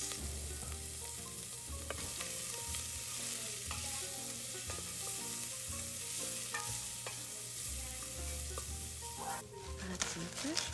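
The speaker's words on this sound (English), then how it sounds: "Next, we'll add 1 clove of fresh garlic and 2 diced carrots" Fresh garlic and diced carrots sizzling in a pan with curry powder and paprika for Saint Lucian style rice and lentils, a steady close sizzle with frequent stirring clinks and scrapes.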